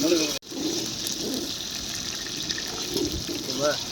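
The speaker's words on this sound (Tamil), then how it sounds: "கறி கழுவுமா கறி கழுவுங்க" Water runs steadily from a tap as meat is washed for an outdoor duck fry cooked at a New Year celebration, a continuous close splashing flow after a brief cutoff at the start, with voices talking over it.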